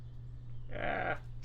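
A single short goat bleat from the video game Magic: The Gathering Arena rings out clearly over a low steady hum.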